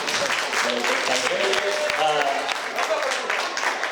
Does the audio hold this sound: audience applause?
yes